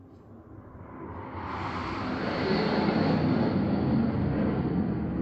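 A fighter jet flies past, its roar swelling steadily from a faint rumble to a loud, broad sustained rush that holds through the end, heard alone without talk.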